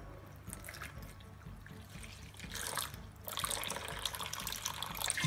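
Water pours from a tap into a bowl for sourdough bread dough, making a soft, steady trickle that gets a little louder and splashier toward the end.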